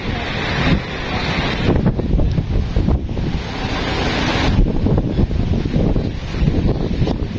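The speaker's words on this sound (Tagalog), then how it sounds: "Hangin. Grabe." Strong gusting wind buffets the microphone in loud, rushing bursts, with a surf-like roar swelling and fading throughout.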